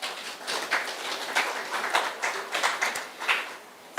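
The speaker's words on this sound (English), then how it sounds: "Please, a round of applause." Scattered applause from a conference audience, with individual claps standing out as sharp separate hits rather than a dense roar, moderately loud and fairly close, with no one speaking over it.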